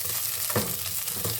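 Ginger goes into a hot pan with mussels, giving a soft, steady sizzle with a couple of brief stirring bursts, close and alone.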